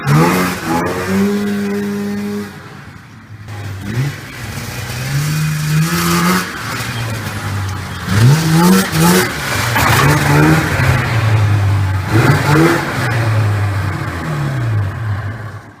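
A small, rough-running engine starts on the first pull after a fouled spark plug is swapped, then revs up and down repeatedly, loud and close, with an uneven, rising and falling drone and no talking.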